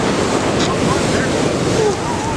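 Gentle ocean surf at Laguna Beach, a steady wash of small waves under heavy wind buffeting against the microphone, with no clear talk.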